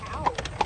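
Horse hooves clip-clop on the road while pulling a buggy in Lancaster, Pennsylvania, a few sharp, close hoof strikes in a brief burst.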